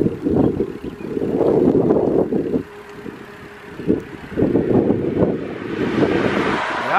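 Cool wind blows outdoors on a warm day, buffeting the microphone with a low rumbling roar in two long surges separated by a quieter lull near the middle, with no voices.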